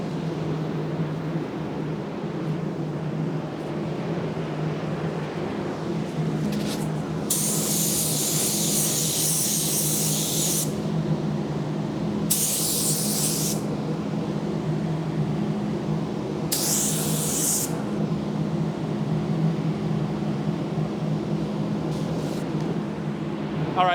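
A spray gun lays down PPG Deltron solvent-base paint in three distinct hissing bursts, each a few seconds long, over a steady low background hum.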